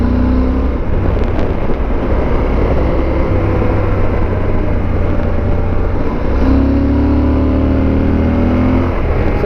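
A motorcycle rides along Route 250 in Virginia with a loud, continuous engine drone and wind rush heard from the rider's position, the pitch shifting as other vehicles go past.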